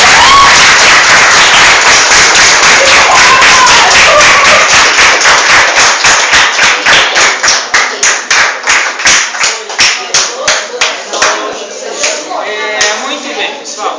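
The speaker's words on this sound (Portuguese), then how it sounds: "Palmas." A classroom of students at a state school claps after a speech in a mock trial debate. The clapping starts as a loud, dense burst, then thins into rhythmic unison claps that gradually slow and fade.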